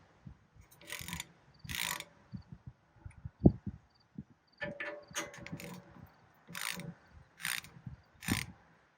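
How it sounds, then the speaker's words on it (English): Compression screws on a rivet tool being loosened, a series of close metallic ratcheting clicks and turns in short bursts with pauses between and one sharp knock, no talking. "Now, I'm going to loosen the compression screws."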